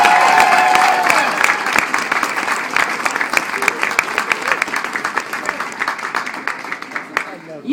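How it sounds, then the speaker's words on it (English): Audience applause for a speaker at a Pullman 9th Ward gathering, loud dense clapping with scattered cheers that slowly thins into separate claps over several seconds. "let's give a Pullman 9th Ward round of applause for Sally Jewell."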